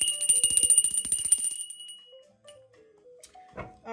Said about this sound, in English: I always like to ring my bell for like spiritual clarity